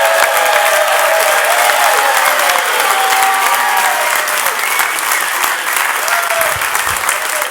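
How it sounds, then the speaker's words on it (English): Loud, sustained audience applause fills a comedy club show, a dense wash of many clapping hands and crowd noise that stays steady throughout, with a few faint voices and whoops mixed in. "Start clapping right now, Joe Matarese."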